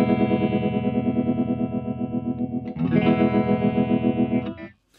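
A chord played through a Mozztronics VB-2 Duo-Vibe pedal set to its fastest speed gives a rapid, steady wobbling vibe pulse over sustained distorted guitar, loud and close, with a second chord struck partway before it cuts off.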